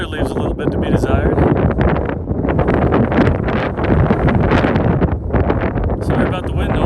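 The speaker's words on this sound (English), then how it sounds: "Sorry about the wind noise." Strong gusts buffet the microphone on the peak of Whitecap Mountain, a loud, roaring wind noise that surges and dips continuously, with a voice partly buried beneath it.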